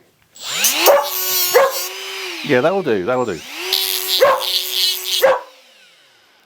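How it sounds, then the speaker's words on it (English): A dog barks sharply a few times and a howl-like yelp joins in, near and loud, with a voice speaking briefly over it. "this will set the dogs off, so you'll probably hear barking in a second"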